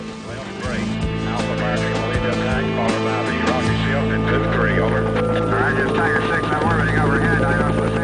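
A Vietnam War helicopter drones loudly and steadily with rotor thumping throughout, while someone talks over it.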